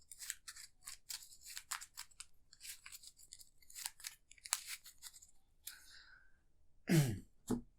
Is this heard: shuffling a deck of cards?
yes